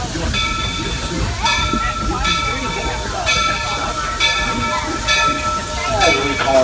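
The Walt Disney World Railroad train rolls along the rails around Magic Kingdom with rhythmic clatter and periodic bursts of hissing, loud and close, while a voice speaks over the noise at times.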